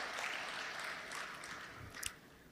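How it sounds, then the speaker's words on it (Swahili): A crowd in Tanzania claps for President Samia at an elders' forum, a steady wash of applause lasting throughout, with a couple of sharper claps standing out near the end. "naomba wote kwa pamoja tumpigie makofi Mheshimiwa Rais"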